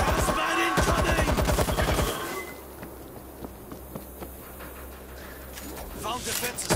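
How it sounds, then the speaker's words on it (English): A stationary machine gun in World War Z rattles in rapid, loud bursts for about two seconds, then gives way to quieter game ambience with scattered distant shots. "Stationary machine gun in position."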